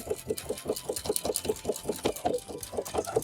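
A sewing machine stitches up a zipper on a pair of wide-leg pants, its needle thumping in a fast, even rhythm close by, with one short pause partway through.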